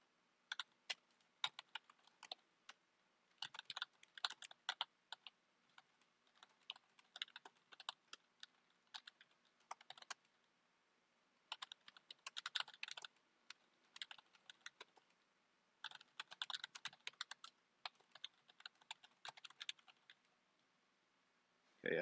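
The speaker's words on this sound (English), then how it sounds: "I'm just typing away in Discord" Rapid bursts of typing on a computer keyboard while chatting in Discord, quiet and close, with clustered clicks separated by short pauses and no talking.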